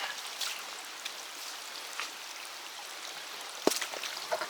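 A river on a hiking trail flows as a steady broad rushing wash of water, fairly close, with a brief thump partway through and no talking.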